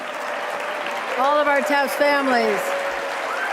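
Steady applause from an audience at a Tragedy Assistance Program for Survivors camp gathering, honouring the grown-ups of TAPS families, continuous throughout while someone speaks over it.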